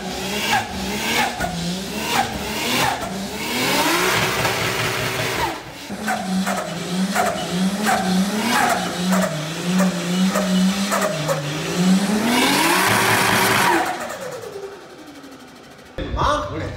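A Nissan Skyline GT-R R34 does a burnout: loud, close engine revving that rises and falls in repeated surges, with wheelspin roar building to a sustained high-pitched scream before cutting off.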